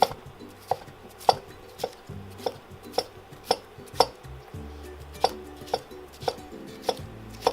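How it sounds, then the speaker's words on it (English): A knife slices and cubes cucumber on a cutting board, giving a series of crisp, evenly spaced chopping knocks about every half second, close and clear, with no talking. "Now I'm going to go ahead and slice and cube our cucumber slices."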